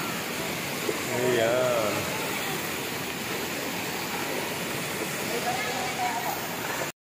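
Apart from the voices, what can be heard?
Tanawan Falls waterfall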